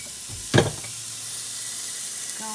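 Garlic drops into hot oil in a pot for a mushroom sauce. A sudden burst of sizzle is followed by a steady, moderate frying hiss that carries on alone without talk.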